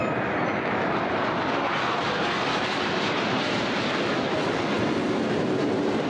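A MiG-29 fighter jet flying aerobatics over the Volga, a loud, sustained broadband jet roar filling the whole stretch without pause.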